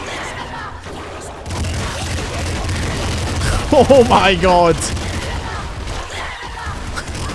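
Explosions from hyper launchers in the PC game Nuclear Throne with a Rebel mod, a steady loud wash of booming blasts throughout, under an excited voice exclaiming in the middle.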